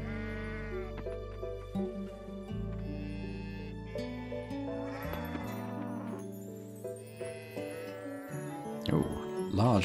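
A goat on a farm in the cozy farming game Coral Island bleats briefly near the end, layered over steady background music with sustained tones.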